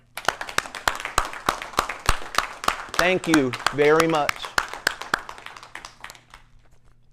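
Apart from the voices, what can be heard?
audience applauding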